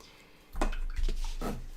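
A watercolour paint brush is swished in a water jar, producing two short splashy bursts of rinsing close by after a quiet start.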